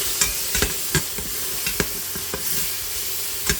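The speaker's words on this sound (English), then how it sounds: "add in the onion, the garlic, and let that saute up just a little bit" Onion and garlic sauté in a pan with a steady close sizzle, punctuated by several spoon knocks and scrapes against the pan.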